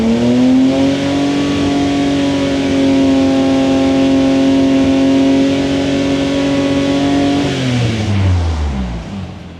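A Honda Beat's small engine revs steadily at a buzzing mid pitch, then the revs drop away toward the end, close and loud.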